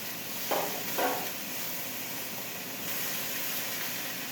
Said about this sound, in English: And our mushrooms. And we'll let them saute down till tender.